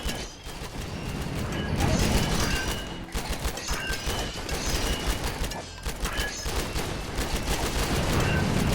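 Bursts of rapid gunfire from a RimWorld battle fill the whole stretch, dense overlapping volleys like a fusillade with brief dips, loud and continuous with crackling high shots.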